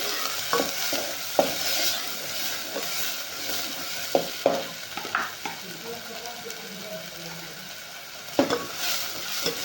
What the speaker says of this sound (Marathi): मसाला आपण कडकडीत मस्त भाजून घ्यायचा आहे